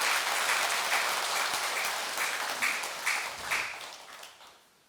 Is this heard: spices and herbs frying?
no